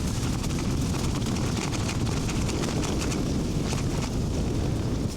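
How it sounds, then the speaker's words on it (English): Strong wind buffets a mountainside wild camp in Snowdonia, a loud, continuous low roar with gusty rushes and some microphone buffeting, no voices. "it's so windy today"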